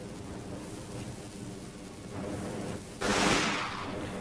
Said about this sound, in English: Metal Storm firing again